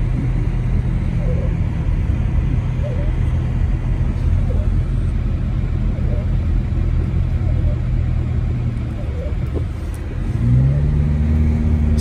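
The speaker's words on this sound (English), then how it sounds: "I'm just gonna go do this short little drive into some of the deeper snow parts of town." A car driving through a snowy resort town, a steady low engine and road rumble close by, with a rise in engine pitch near the end.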